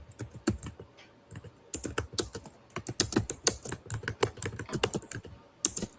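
Fast typing on a computer keyboard during a typing test, with quick clusters of crisp, close key clicks in uneven bursts and short pauses between, no voices.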